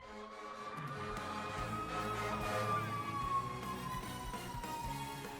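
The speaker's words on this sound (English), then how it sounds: "Apologize for the siren there." An emergency siren passes outside, its wailing tone drifting slowly downward in pitch, heard at moderate distance beneath continuous video game music and effects.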